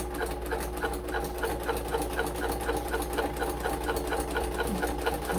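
Steady, fast rhythmic stitching from a nearby sewing machine, running continuously with even mechanical pulses and a low motor hum, no voices.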